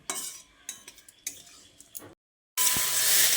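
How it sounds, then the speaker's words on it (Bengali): A spoon stirs moringa drumsticks and fried potatoes with spices in a pan: repeated scraping clinks over a light sizzle, then a brief silence before a loud, continuous burst of sizzling. "ভাজা আলুগুলো দিয়ে এবার ডাঁটার সঙ্গে আরও একবার ভালোভাবে মিশিয়ে নিতে হবে।"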